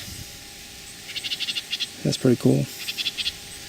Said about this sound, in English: I got an audience of frogs and house friends